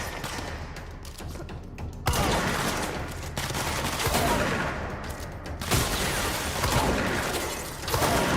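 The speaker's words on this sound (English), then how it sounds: "The shotgun's pretty cool." Shotgun blasts in the video game Control come as heavy, booming reports, with loud bursts near 2 and 5.6 seconds over a dense, continuous layer of combat noise and rumble.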